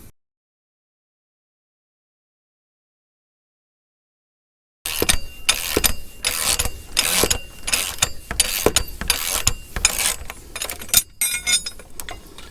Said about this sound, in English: Forcing screw turns on the center on the shaft, and it just pulls that thing right off.